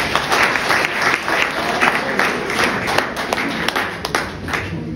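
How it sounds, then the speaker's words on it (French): An audience at a congress applauds, a dense, steady wash of many hands clapping that fills the room for several seconds with no break. "Encore une simple applaudition pour ce monsieur Luc Dumont."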